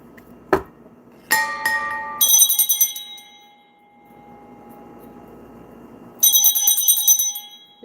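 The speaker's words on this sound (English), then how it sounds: "Let me ring this bell." A hand bell is rung several times in a quiet room, each bright, ringing strike leaving a long shimmering decay, with a softer background hum between two bursts of ringing.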